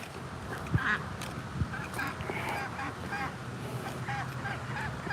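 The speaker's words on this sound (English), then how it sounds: "Oh, Mr. Duck, or whatever you are. I think you're a duck." A duck calls with repeated honking quacks near a bass fishing spot on the water, moderately distant and mixed with outdoor background noise and wind.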